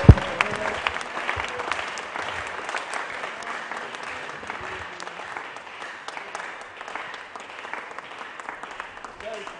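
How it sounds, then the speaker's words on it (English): A church congregation claps together as an offering to the Lord during a fasting and prayer service, with dense, sustained applause filling the room for the whole stretch and scattered voices and cheers mixed in. "A clap of offering unto the Lord."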